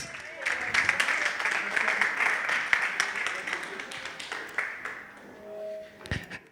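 Wedding guests break into a round of applause, dense clapping that swells and then thins out toward the end, followed by a couple of sharp taps and a brief ringing tone.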